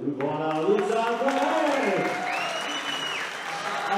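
A large crowd bursts into loud, sustained applause and cheering at a combat-sport bout, a thick, continuous roar of clapping with whistles and shouts mixed in, staying strong from start to finish.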